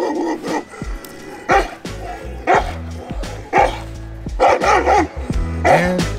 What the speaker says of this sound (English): This is my female Canis Corso guard dog, Miss B